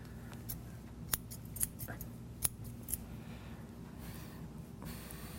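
Hairdressing shears snip through hair in a few sharp, distinct cuts spaced over several seconds, with a low room hum beneath and no talking.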